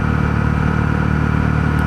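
A Honda CB 125 motorcycle cruises steadily at about 65 km/h in eco mode, its engine droning evenly under heavy wind rush, with no voices.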